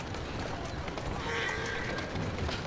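A horse in the video game Assassin's Creed Syndicate clip-clops steadily with hooves and gives a brief neigh, heard against a dense, busy background.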